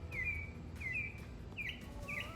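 A bird chirping outdoors in a yard: four short, high, sweeping chirps spaced about half a second apart, faint and a little distant over low background rumble.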